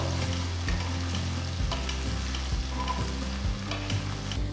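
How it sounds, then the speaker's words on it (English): Ground onion paste frying on a low flame for lauki kofta curry gives a steady, close sizzle that runs the whole time, with faint stirring scrapes and a low hum underneath. "now add the ground onion paste, keep the flame on low."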